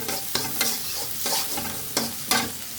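Okra (bhindi) fries in a pan with a steady close sizzle, broken by several sharp scraping stirs of a spatula at irregular intervals.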